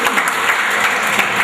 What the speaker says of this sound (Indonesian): kita berikan tepuk tangan untuk Pak Edi